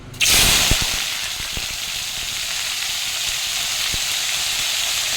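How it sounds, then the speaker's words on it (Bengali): Panch phoron spices hit hot oil in a kadai with a sudden loud sizzle that settles into a continuous bright frying hiss, dotted with a few sharp crackles and pops near the start, with no voices. "কড়াইয়ে 5 ফোড়ন দিয়ে দিয়েছি"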